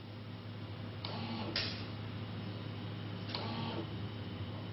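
A computerized apparatus counting Varroa mite samples gives a quiet steady electronic hum with a few brief mechanical clicks and whirs spaced a couple of seconds apart.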